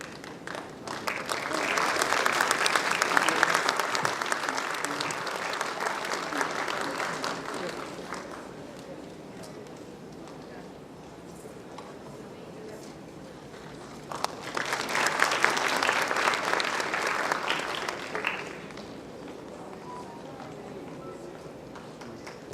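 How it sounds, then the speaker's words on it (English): An audience at a medical institute's first convocation ceremony bursts into loud applause twice, each sustained clapping swell lasting several seconds before fading, with a quieter murmuring hall in between. "Please give a big round of applause"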